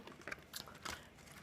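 Someone biting into and chewing a crunchy, well-toasted waffle, with three or four crisp crunches close to the mic in an otherwise quiet room.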